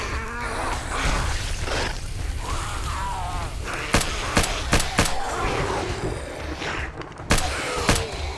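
Gunfire in the modded survival game 7 Days to Die, several sharp single shots spaced a second or so apart over a buzzing, insect-like game background.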